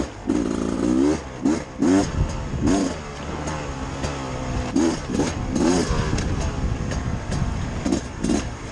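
A 2021 Beta 300 RR two-stroke dirt bike revs and bogs repeatedly while riding through mud, its engine rising and dropping in short bursts, loud and close, with some wind noise.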